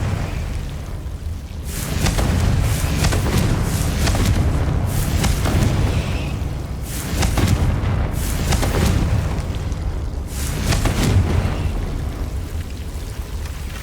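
Repeated Confringo blasting-spell explosions from Hogwarts Legacy erupt as deep, loud booms roughly every few seconds, each with a rumbling tail over a low ambient bed.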